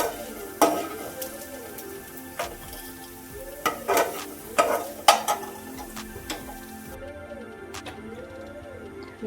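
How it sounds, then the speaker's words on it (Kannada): Coriander seeds dry-roasting in a pan, stirred with a spoon in repeated scraping strokes and light clinks against the metal, close and fairly quiet, no voices. "ಇದು ಧನಿಯಾ ಕಾಳು ಸ್ವಲ್ಪ ಕಲರ್ ಚೇಂಜ್ ಆಗಬೇಕು. ಚೆನ್ನಾಗಿ ಫ್ರೈ ಆದರೆ ಚೆನ್ನಾಗಿ ಟೇಸ್ಟ್ ಬರುತ್ತೆ."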